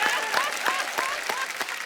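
Studio audience on a comedy talk show clapping in quick, fairly regular bursts, heard at moderate distance and soft overall, with a voice mixed in.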